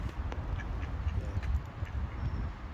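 Two ducks quack quietly on a Paris waterway, a few soft scattered calls over faint outdoor background noise, with no talking.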